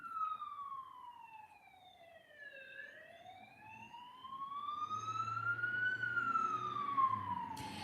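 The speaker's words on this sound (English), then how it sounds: "can you hear that siren?" A wailing emergency siren sweeps down and then slowly rises in pitch, somewhat distant, with a low vehicle rumble building beneath it.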